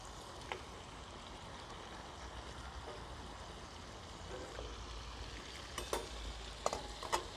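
Vegetables frying in butter in a skillet on a Camping Gaz cooker, with a steady low sizzle and a few light scrapes and clicks of stirring near the end; no talking.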